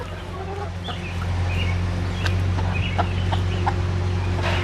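Laying hens on a homestead cluck steadily while being fed, several birds close by with short overlapping calls over a constant low outdoor hum.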